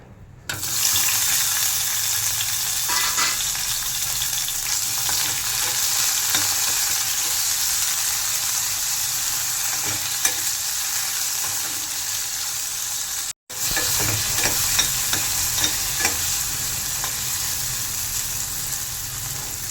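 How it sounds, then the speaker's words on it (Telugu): Tomato pieces frying with green chillies in a pan, a loud continuous sizzle with stirring scrapes throughout, broken by one brief silent gap partway through. "పచ్చిమిరపకాయలు ఫ్రై అయిన తర్వాత టమాటో ముక్కలు వేసుకోవాలి."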